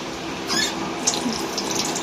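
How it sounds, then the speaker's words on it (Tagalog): Tap water runs over raw milkfish being washed in a sink, a steady close splashing wash with brief squeaky clinks, no voices. "Paano nga ba maghugas ng bangus? Ayan. Lagyan lang natin siya ng water."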